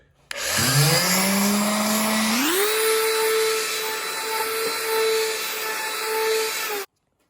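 A power sander on a car audio center console with its wooden base exposed: a steady loud whine that spins up from a low start, settles into a continuous close hum, and cuts off cleanly.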